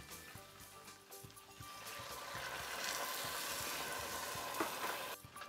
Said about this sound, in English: And so now I'm going to add my wine.